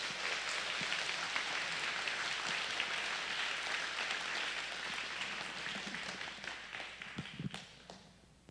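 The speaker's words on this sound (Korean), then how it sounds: "뜨거운 박수로 환영해 주시기" A church congregation at a Sunday service applauds warmly to welcome the pastor, a steady wash of clapping in a reverberant hall that tapers off at the end.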